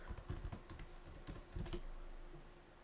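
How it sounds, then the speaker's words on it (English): Keys clatter on a computer keyboard as a password is typed, a quick burst of close taps, a pause, then a second flurry, with no voices. "Enter in my password."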